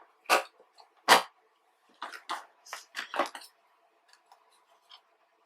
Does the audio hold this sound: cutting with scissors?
yes